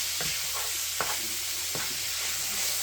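Ground meat browns in oil in a pan for spaghetti bolognese, giving a steady soft sizzle with a few light stirring scrapes and knocks, fairly close and moderate in level.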